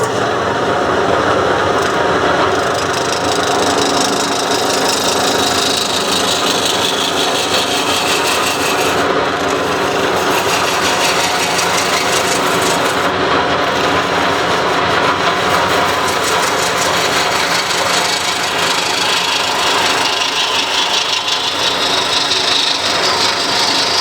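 Steady broadband scraping and shaving of a wood lathe cutting tool on spinning wood while turning mushrooms, continuous and loud throughout, with a low mechanical hum beneath.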